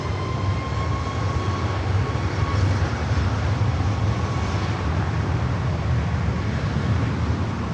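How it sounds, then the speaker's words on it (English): A MAX jetliner taking off from runway 24 left at Los Angeles International Airport, a steady, fairly subdued broadband engine roar held close and even throughout, with a faint tonal whine above it. "It's amazing how quiet those MAX aircraft are taking off."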